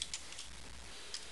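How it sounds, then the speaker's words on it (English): A computer keyboard is tapped in a few quick, light keystrokes, soft and close, with a couple of distinct clicks spaced across a short quiet moment. "I'm going to type"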